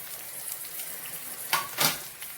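Mustard seeds hitting hot oil in a pan while tempering for Andhra-style tamarind pulihora, giving two short bright crackling bursts over a quiet background hiss.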